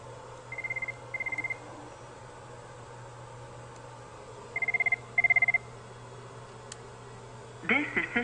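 A phone system rings out over a steady low hum, two short trilling bursts near the start and two more a few seconds later, with a brief click and a louder clatter at the end.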